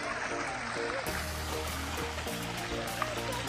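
Flowing water at a bird park runs as a steady, close rushing trickle, with a child's hand reaching into it and shifting splashy textures across the stream.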